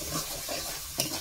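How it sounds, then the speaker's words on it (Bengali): Spice paste is stir-fried with crab in a hot pan, making a continuous close sizzle with scraping stirring strokes and one sharper clatter near the end, with no voices. "মশলাটা ভালো করে কষিয়ে নিচ্ছি আমি"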